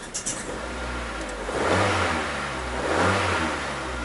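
A 2003 Mazda Protege engine with an idle misfire revs up in two broad swells, stumbling and uneven rather than climbing cleanly, steady and fairly loud throughout with no voices.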